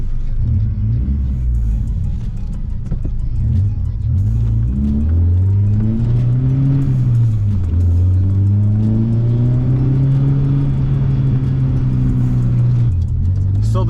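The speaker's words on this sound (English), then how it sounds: "the truck isn't terribly loud inside the interior" A minitruck's engine drones steadily from inside the cab, its pitch rising and falling as it revs and shifts, loud and close throughout.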